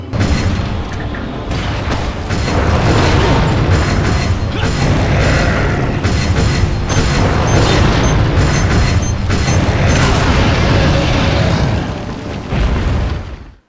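Resident Evil 4 grenades detonating, a loud continuous roar of booming blasts and rumbling debris that holds steady for over ten seconds before trailing off abruptly, close and with no talk.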